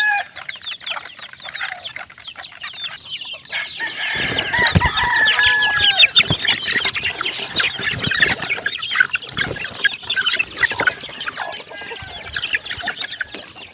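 A flock of two-month-old chicks and chickens in a small poultry coop cluck and peep loudly and busily at feeding time, with overlapping calls and occasional crowing and scratching.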